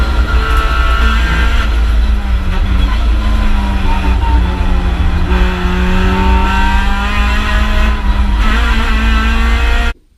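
A race car engine sounds loud and close, holding a sustained, buzzing drone whose pitch wavers and climbs with revs for about ten seconds before cutting off abruptly.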